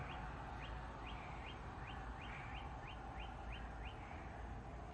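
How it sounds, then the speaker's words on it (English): Repeated bird chirps at about six in the morning, about ten evenly spaced short calls, sound from a distance over steady low background rumble of early traffic. "Still hear the birds."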